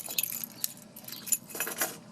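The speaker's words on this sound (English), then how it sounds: "Let's take the keys off so I don't hear the keys rattling." A set of keys jangles and clinks near the microphone in a few bright bursts of metallic rattling, with quiet pauses between them, near a marine engine being tested.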